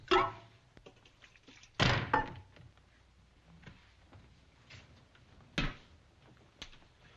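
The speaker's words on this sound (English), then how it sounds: "Close that door." Door pulled shut in an Old West scene lands with a solid thunk, followed by a few quieter knocks and faint room noise.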